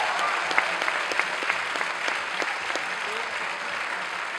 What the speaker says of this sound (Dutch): een hartelijk applaus voor onze mentoren van Musai, mevrouw Malsgaard en mevrouw Koran